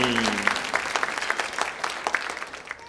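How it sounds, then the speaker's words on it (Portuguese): Church congregation clapping in a steady, dense run of applause for about three seconds, fairly close and loud, with a brief sustained vocal tone fading out at the start. "Pode aplaudir Jesus com toda a força."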